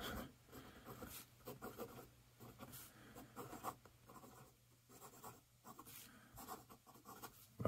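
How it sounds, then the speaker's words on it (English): Extra fine nib fountain pen, a Pelikan M805 or Pilot Custom 823, scratching across paper in close, quiet bursts of short strokes with brief pauses between words, and no voices. "Quick little write-in sample."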